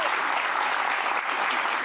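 Studio audience applause on a French television talk show, a steady, fairly soft wash of many hands clapping throughout.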